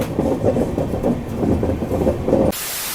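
Mumbai Howrah Duronto Express, train number 12261, runs on the tracks with a steady, loud, close rumble and a rhythmic rattle, then cuts to a flat, even hiss for the last half second.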